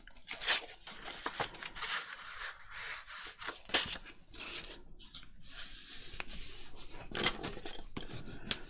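Scored paper for a junk journal being folded and creased by hand, giving close, dry rustles, rubbing scrapes and sharp crinkling snaps in an uneven rhythm.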